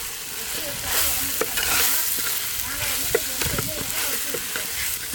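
Steady sizzling and frying of tomatoes with turmeric in a pot, with intermittent scraping and stirring strokes of a utensil; no voices.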